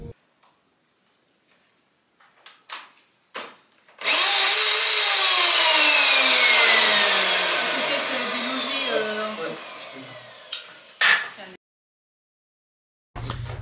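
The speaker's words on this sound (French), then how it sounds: "On a acheté une nouvelle tronçonneuse." A newly bought chainsaw starts up and runs loud and close for about seven seconds, its engine note rising then slowly dropping before it cuts out, with brief knocks and handling noises around it.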